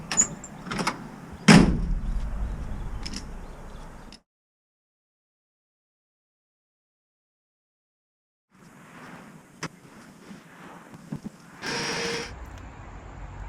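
Door latches and locks on a 1964 International Harvester Travelall C1100 clunk and click several times up close, with a sharp metallic thump early on, a silent gap, then more rattling door handling.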